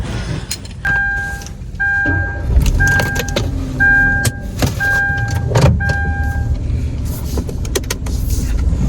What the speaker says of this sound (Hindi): फिर भी उसके साथ लगा देता हूँ मैं गाड़ी